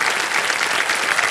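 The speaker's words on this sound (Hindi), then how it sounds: "तालियां बज जाए इनके लिए।" Studio audience on a quiz show clapping in a dense, steady burst of applause, loud and sustained throughout.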